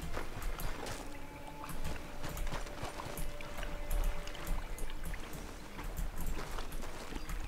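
A horse in the open-world western game Red Dead Redemption 2 clops along with steady hoofbeats, mixed with a continuous watery, rushing ambience and no talking.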